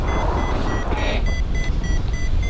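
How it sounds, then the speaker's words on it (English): Steady high electronic beeps from a paragliding flight instrument repeat in a regular rhythm over a loud rushing wind roar while flying in cloud over the Alps. "In the cloud, just beep, beep, beep."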